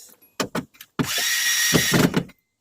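Power drill driving a bolt during dent repair on a Nissan 240SX panel, a few short bursts followed by a sustained whine of about a second, close and loud, with no talk.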